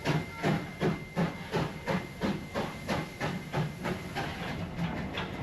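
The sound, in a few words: Zig Zag Railway train moving down the track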